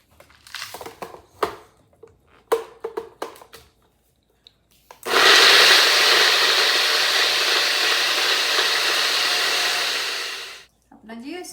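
An electric grinder whirs loudly for about five seconds as it reduces almonds, fennel seeds and rock sugar to powder. Rattling and tapping of the ingredients come before it, and it winds down to silence.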